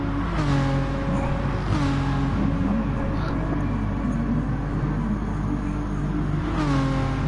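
A Renault Megane race car's engine drones and revs steadily near at hand, the driver struggling to get it going again mid-race, with a few rising rev surges over a constant loud hum.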